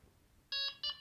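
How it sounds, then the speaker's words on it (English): A Txi-D fishing bite alarm in tone adjust mode gives two short, bright electronic beeps in quick succession, close and clear over a quiet background. "hold the button down and wait for 2 beeps"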